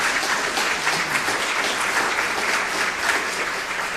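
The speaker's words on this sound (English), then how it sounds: "How about a round of applause for our great facilitators?" An audience at a town hall meeting gives a round of applause for the facilitators, steady full-room clapping that stays even and unbroken for several seconds, with no one speaking.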